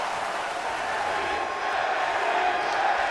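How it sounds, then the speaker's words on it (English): A large crowd roars and cheers steadily at an NXT wrestling match in a WWE 2K game, a continuous wash of sound that swells slightly toward the end, with no distinct voices. "Crowd on their feet. NXT chants out in force."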